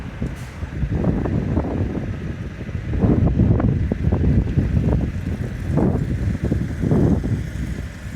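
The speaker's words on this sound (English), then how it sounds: "it's getting a bit blowy" Gusty wind at a harbour buffets the microphone in rumbling surges that rise and fall over several seconds, loud and close, with no talking.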